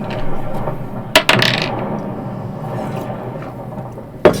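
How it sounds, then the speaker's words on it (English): Percentile dice rolled during a tabletop role-playing game session, heard as a few short, sharp clattering hits against a table over a steady background hum, with another quick clatter near the end. "I need you to roll a percentile dice for me."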